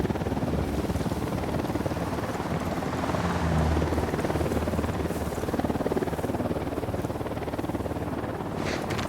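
A helicopter in the video game Ghost Recon Wildlands thrums with a continuous, dense rotor and engine roar, steady and fairly loud with no talking.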